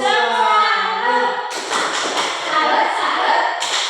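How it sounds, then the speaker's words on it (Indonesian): Children in a primary school class clap once together. A single sharp burst cuts in among their chanting voices, with more group voices continuing after it. "Tepuk sekali."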